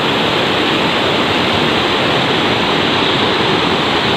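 Tili Ti Nuang waterfall roars in a loud, continuous wash of falling water, dense and unbroken, with no voices over it.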